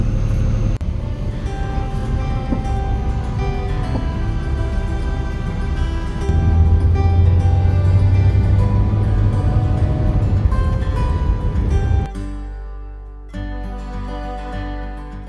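A car drives along a road in Western Australia, a steady loud engine and road hum heard from inside, with a brief lull at the end.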